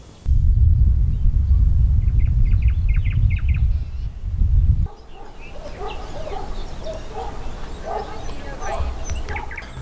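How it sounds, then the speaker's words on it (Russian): Birds chirp and tweet outdoors in Svisloch, Osipovichi District, Belarus, first under a heavy low rumble, then more clearly with many overlapping calls. "Здесь вы же слышите, какие, как поют птицы"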